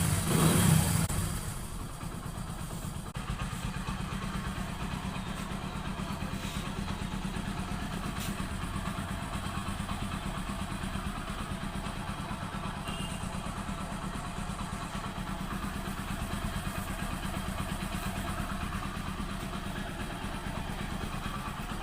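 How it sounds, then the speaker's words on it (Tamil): A Hero HF Deluxe motorcycle engine idles steadily and evenly close by after a timing chain kit replacement, a smooth continuous mechanical hum after a brief louder start, with no voices. "இப்போ இன்ஜின் நாய்ஸ் எப்படி இருக்குன்னு பாருங்கள்"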